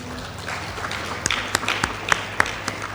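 Scattered claps and a few sharp taps break out from a young audience at a celebration event, starting thin and irregular over a low murmur of a hall rather than full sustained applause.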